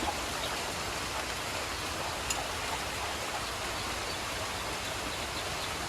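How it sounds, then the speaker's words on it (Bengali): Steady rain hisses evenly throughout, a dense constant patter with no voices and only a single faint tick standing out. "আমি এই বৃষ্টির মধ্যে"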